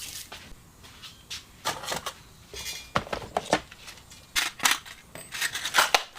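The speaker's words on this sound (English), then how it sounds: "I'll throw some hooks on here and then get my final shots" Size 4 treble hooks are fitted onto a handmade, clear-coated fishing lure, producing a run of small sharp metallic clicks and snaps at close range, irregular and fairly quiet, with no talk.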